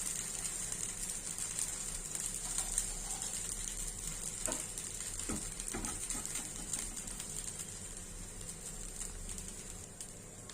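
Bottle gourd dosa sizzling steadily on a hot pan after being flipped with a little oil added, a continuous soft crackle with faint scraping and a few light taps, no voices.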